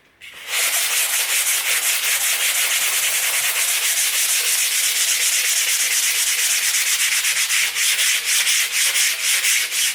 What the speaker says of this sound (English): We're going to give it a quick sand with 120 grit sandpaper